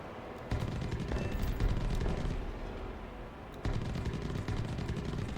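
Aircraft machine guns in War Thunder hammer at a bomber in dense, loud rapid-fire bursts. There is a brief easing around the middle before the sustained chatter resumes.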